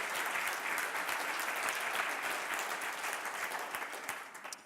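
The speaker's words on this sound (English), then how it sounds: "Please do a round of applause." Steady applause from a conference audience fills the room, sustained clapping from many hands at a moderate, slightly distant level that tapers toward the end.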